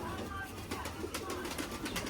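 A young female pigeon, in her second year and bred locally in a Pavlohrad loft, gives soft low coos in a steady run over a close, murmuring background of other birds.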